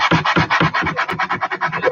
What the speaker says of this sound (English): So, crappy piece of sandpaper first.